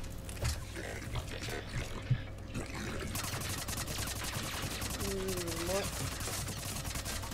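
Rapid bursts of gunfire in the video game Mass Effect 3 rattle steadily, with a brief spoken word and occasional voices mixed in.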